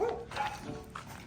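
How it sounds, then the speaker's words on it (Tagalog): A dog barks in short bursts, a couple of quick bow-wow yips at moderate distance, heard during a behind-the-scenes pre-debut photoshoot, with faint voices in the background. "Hindi na nakilala si Kim ng aso."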